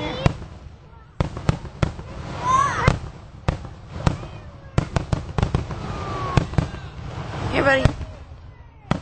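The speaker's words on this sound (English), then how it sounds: "Fireworks." Fireworks crack and pop repeatedly in loud, irregular bursts, with whistling rockets rising between them and voices talking in the background.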